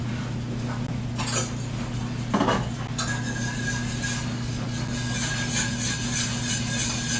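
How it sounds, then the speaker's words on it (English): A spoon scraping and stirring grits back and forth in a pot, with repeated rubbing strokes and light clinks over a constant low background hum. "With grits, you do have to stir them a lot, so we'll be going back and forth, doing a lot of stirring with our grits"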